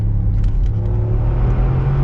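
A 2022 Mercedes G550 G Wagon accelerates. Heard from inside the cabin, it gives a loud, steady low engine rumble and road roar with no talk.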